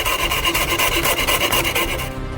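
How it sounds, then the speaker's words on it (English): A jigsaw cuts through thin fiberboard in a continuous rapid rasping buzz, loud and close, with fast rhythmic strokes and no talking. "We cut it out with the jigsaw from thin fiberboard."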